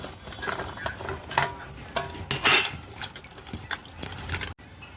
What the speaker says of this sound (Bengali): এবারে আমি জলে ভালো করে ধুয়ে নেব।